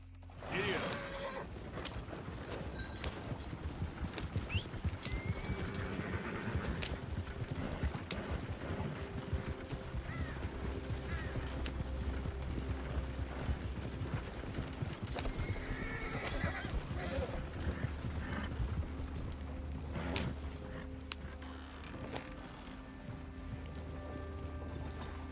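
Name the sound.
horse riding in video game Red Dead Redemption 2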